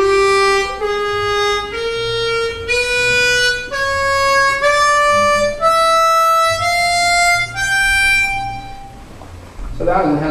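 A harmonica plays a rising dominant scale of sustained notes, one after another, ending with a short rustle.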